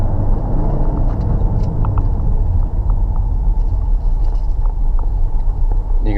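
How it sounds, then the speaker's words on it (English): A Ford Explorer Sport EcoBoost accelerates and builds turbo boost, a loud, unbroken engine drone and road rumble heard from inside the cabin, with no talking. "You can feel the truck really starting to build boost."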